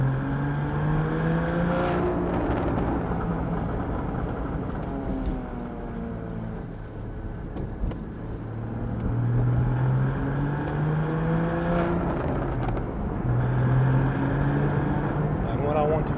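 A 2015 Porsche Cayman 981 GT4 engine pulls steadily while driving, its rising and falling drone repeating through several gear pulls, loud and close inside the car with no talk over it.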